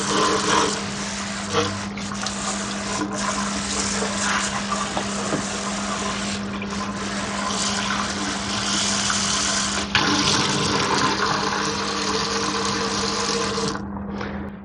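Water runs from a new Moen one-handle high-arc pulldown kitchen faucet with Power Clean as a steady, close, full hiss for about fourteen seconds, then cuts off near the end, with no speech.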